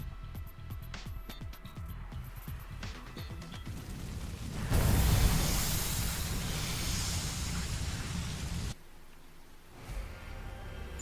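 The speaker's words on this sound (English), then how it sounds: "Oh, it's still raining out here too." Steady rain falls in the video game The Hundred Line -Last Defense Academy-, a broad hissing wash that swells suddenly midway and then drops off, with footstep-like taps before it and no voices.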